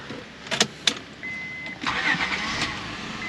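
A Honda car engine, part of a J-series swap project, cranks and fires up after a couple of sharp clicks, settling into a steady mid-pitched idle close by with a faint warning chime.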